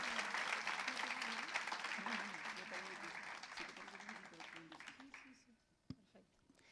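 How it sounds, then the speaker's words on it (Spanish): A church congregation applauds in a long, dense burst of clapping that fades out toward the end, with a voice speaking over the crowd. "Dale un aplauso al Señor, dale un aplauso de gratitud"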